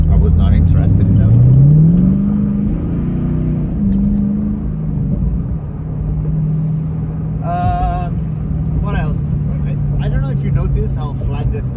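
A 2015 Chevrolet Camaro Z/28 drives slowly through a sideways turn, its engine a steady close rumble that rises in pitch early on, with someone talking over it throughout.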